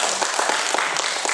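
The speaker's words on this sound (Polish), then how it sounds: "Oklaski dla pani Jany tutaj." An audience claps in a brief, steady burst of applause at a magician's stage show in a small-town cultural centre hall.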